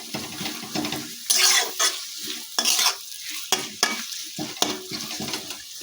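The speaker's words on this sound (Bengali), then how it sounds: "পেঁয়াজটা এর মধ্যে দিয়েছি। এটাকে একটু ভালো করে ভেজে নেব।" Chopped onion, one large onion, frying in hot oil as it is stirred in a pan for chicken bhuna, with bursts of sizzle and scraping spoon strokes at irregular intervals, close and loud.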